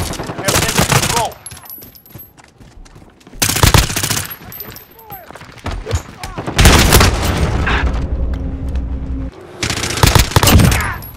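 Gunfire in the video game Call of Duty Modern Warfare 2019, loud bursts of rapid automatic shots in clusters with quieter gaps between, over game voice announcements and background battle noise.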